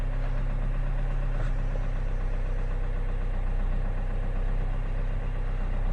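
A rebuilt Audi A4 2.0 TDi 140 hp diesel engine idles steadily just after starting, with a close, even rumble and a faint rhythmic knock running throughout.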